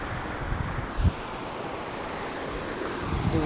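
Stream water flows in Wayanad, a steady broad rushing wash that stays loud and continuous throughout, with some wind noise on the microphone.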